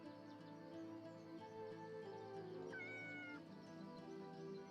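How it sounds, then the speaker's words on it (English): A cat meows in the video game Yes, Your Grace, a single drawn-out meow rising over a quiet bed of game music, faint and low in the mix. "Is that a kitty cat?"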